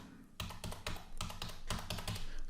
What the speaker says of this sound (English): And let's type in any number.